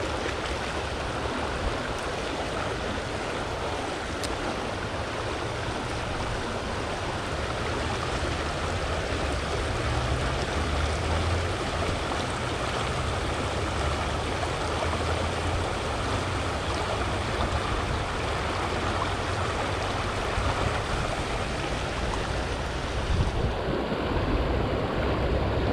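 White water stream rushing steadily around someone wading in it, a loud, continuous broadband roar and splash close to the microphone for the whole stretch.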